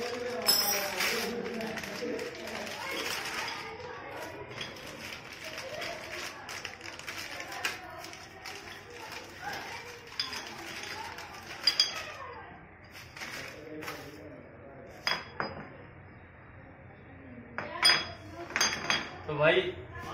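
Rear drum brake of a TVS Star City Plus motorcycle being opened to change the brake shoes: scattered light metallic clinks and taps, growing sharper toward the end, with someone talking through much of it.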